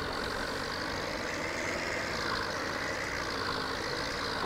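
A tractor engine with four-wheel drive drones steadily in Farming Simulator 17, a continuous mid-level rumble with a slight rise and fall in pitch and no break.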